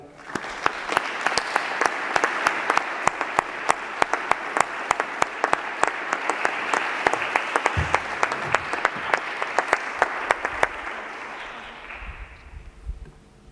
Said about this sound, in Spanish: Un aplauso para Lorea Blázquez.